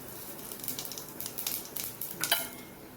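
Cumin seeds spluttering in hot oil in a kadhai, a soft crackling sizzle with quick pops and a few sharper bursts, close and fairly quiet, no talking.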